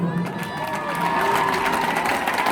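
Live concert crowd in Barra, Naples, at a show, cheering and shouting with applause mixed in, a loud continuous roar with musical tones running through it.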